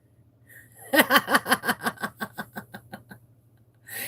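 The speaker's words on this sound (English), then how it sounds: "figure out where that kitten is that I hear" A kitten meows repeatedly in a quick, rhythmic series of about a dozen short, bright calls that gradually fade, nearby and alone over a faint steady hum.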